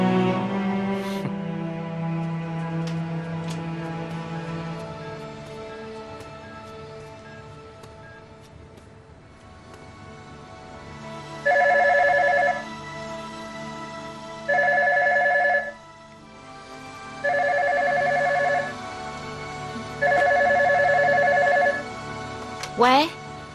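A telephone rings in a television drama scene, four loud repeated bursts of an electronic bell tone with short gaps between them, after a quieter stretch of background sound and music.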